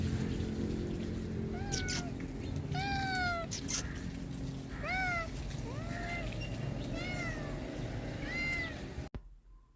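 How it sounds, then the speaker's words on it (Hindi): A cat outdoors near a home gives several meows, some drawn out and rising, repeated over several seconds at moderate distance, against a faint background rumble, then the sound cuts off abruptly. "बाहर निकली हूँ तो एक खूबसूरत सी कैट थी"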